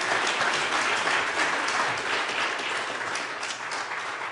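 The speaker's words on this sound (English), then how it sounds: "let's have another round of applause for Dr. Mays and Dr. Jackson." A debate audience applauds continuously, a dense, even wash of many hands clapping at moderate distance, sustained for the full few seconds without any talk.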